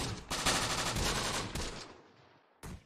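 Soldiers' gunfire in Close Combat: The Bloody First, set in Tunisia: a sustained machine-gun burst with several sharp shots, fading out, then one more short burst, loud and close, no talk.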